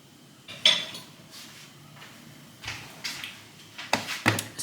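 Metal utensils clink and clatter in short, separate bursts as someone rummages in a kitchen for a KitchenAid stand mixer whisk attachment, fairly quiet with pauses between the knocks.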